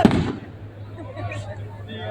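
A firecracker bursts once at the very start, a sharp loud bang that quickly fades into a steady low hum and faint background noise.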